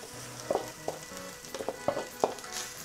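Linguiça sausage sizzling in a hot pan for paella campeira, a steady soft fry under scattered sharp scrapes and taps as a spoon breaks the sausage apart.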